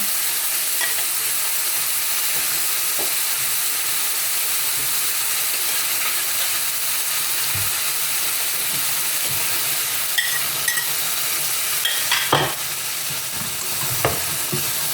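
Pork stir-fried in a pan sizzles and hisses steadily as water is poured in, with a few scraping stirring clicks near the end; no one speaks.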